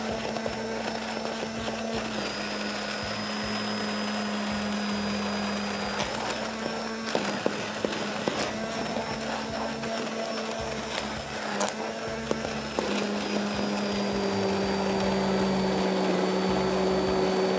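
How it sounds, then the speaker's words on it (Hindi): Electric mixer grinder coarsely cracking dal lentils, a loud steady motor whine with rattling grit and brief pauses and restarts, close and continuous, no talk. "और दाल की पहली ग्राइंडिंग मैं कर रहा हूँ, और शायद यही वाइड ग्राइंडिंग हो।"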